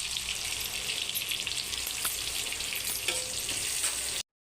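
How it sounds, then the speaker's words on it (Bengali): Chopped onion and green chilli frying in hot oil make a loud, dense sizzle that crackles continuously with scraping stir strokes mixed in, then cuts off abruptly near the end. "তেল গরম হয়ে গেছে, পেঁয়াজ কুচি দিয়ে দেব।"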